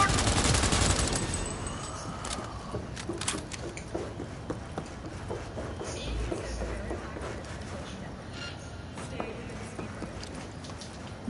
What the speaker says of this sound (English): You're shooting at police!